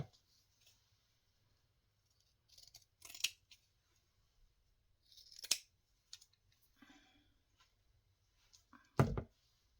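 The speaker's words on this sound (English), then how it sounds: "I'll cut another piece off." Scissors snip through a piece of craft material in a quiet room: several sparse, crisp cuts and small clicks spread over the stretch, ending with a louder close snip.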